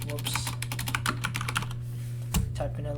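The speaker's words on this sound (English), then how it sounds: "typing a little bit too fast right now" Rapid typing on a computer keyboard while writing C++ code, a dense patter of close, crisp key clicks running steadily with a heavier thump near the end.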